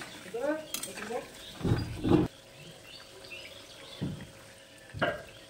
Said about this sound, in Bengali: পেঁয়াজগুলো উল্টিয়ে পাল্টিয়ে লাল লাল করে ভেজে নেব